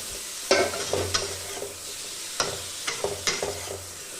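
Potatoes stir-fried in a pan, with repeated spatula scrapes and clanks over a continuous sizzle, several sharp strikes spaced through the stretch.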